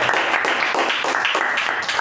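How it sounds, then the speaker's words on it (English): A crowd applauds steadily for about two seconds, a dense patter of many hands clapping at once, fairly loud and close. "Let's give a big round of applause for that."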